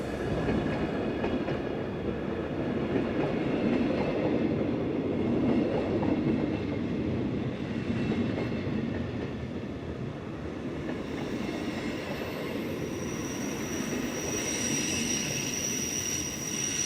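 The Glacier Express rolls steadily on its rails near St Moritz, giving a continuous rumbling roar of wheels and carriages with no break and no voices.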